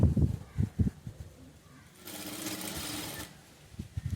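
A sewing machine stitching blouse fabric runs in one steady burst of about a second and a half, close and clear, after some handling thumps and before more soft knocks.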